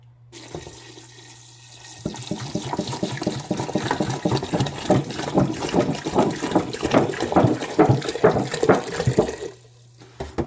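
About 1.5 gallons of water pours steadily into a cooking pot, a continuous splashing gush that grows fuller as the pot fills, then stops.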